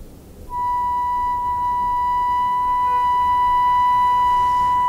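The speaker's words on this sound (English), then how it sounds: "this is a sound of a flute, note B4" A single steady flute note, B4, held evenly for several seconds, clear and fairly loud with no other sounds.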